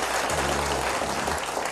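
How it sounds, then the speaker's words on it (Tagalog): An audience breaks into steady, full applause that fills the whole short moment, a thick wash of many hands clapping at once with no voices on top. "Palakpakan natin yan."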